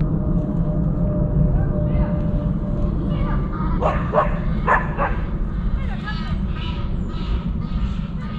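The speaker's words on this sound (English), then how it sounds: "Dog and geese, they don't get on too well, do they?" A dog barks at geese beside a river on a winter walk, a few sharp barks mixed with bird calls over steady outdoor noise, with a person talking.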